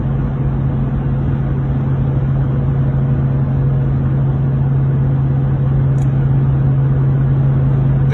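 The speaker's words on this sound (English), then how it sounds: "Got the Hemi wound up" Hemi engine in a car cruising at speed, a steady low droning hum with constant road noise, heard from inside the cabin, no talk.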